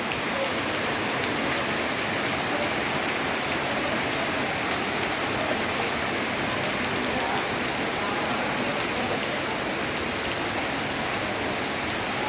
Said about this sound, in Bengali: হঠাৎ করে তুমুল বৃষ্টি শুরু হয়ে গেছে।